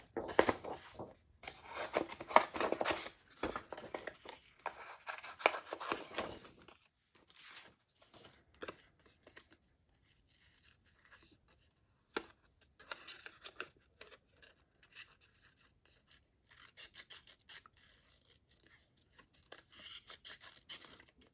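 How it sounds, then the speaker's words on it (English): Quiet snipping and rustling of paper being cut with scissors, irregular bursts up close with pauses in between. "now that I have both of those, I can cut them out with my scissors"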